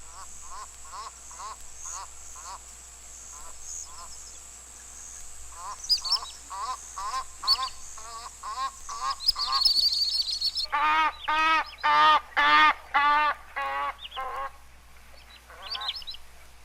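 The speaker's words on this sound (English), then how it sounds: "Here's a bird making a soft, anxious quack, then honking loudly as it flies past." An Egyptian goose gives a series of soft, anxious quacks, then bursts into loud, rapid honking as it flies past, the calls growing stronger and closer before trailing off.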